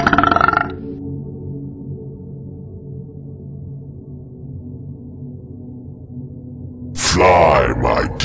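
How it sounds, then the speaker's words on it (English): A monstrous creature spewing seed and pumpkin pulp lets out one massively long belch, a deep, loud, drawn-out rumbling groan that holds steady for several seconds after a short burst of other sound, then gives way to a louder, rougher noise at the end. "belch"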